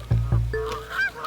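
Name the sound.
Canada geese honking as they fly off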